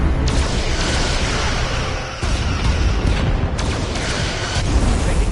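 Starship under heavy fire in Star Trek Resurgence: a continuous roar of booming impacts and explosions, dense and steady, with a brief dip midway before the barrage resumes.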